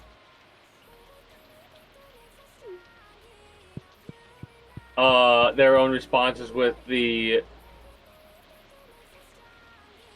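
Rain falls in the farming game Stardew Valley as a soft, steady patter in the background, with a few faint clicks, before a person talks briefly over it.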